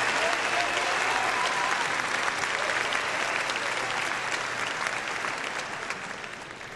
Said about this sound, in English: If you guys would help me give them a round of applause for making time tonight.